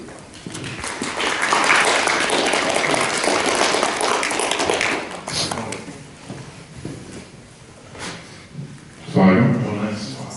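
A lecture audience gives a short, soft round of applause for the speaker AbdelRahman Murphy, a few seconds of light pattering claps that fade into quieter room sound with speech and scattered taps.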